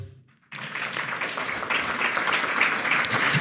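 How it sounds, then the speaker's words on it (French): A public audience at a round table on local issues and regulations bursts into applause after a short quiet moment. The clapping stays thick and even to the end, with no talk over it. "vous pouvez vous applaudir"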